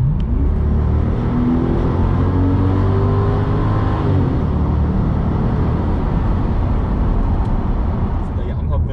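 A 2007 Cadillac STS4's engine and exhaust heard from inside while driving, a loud full rumble with rising and falling revs throughout, and someone talking over it.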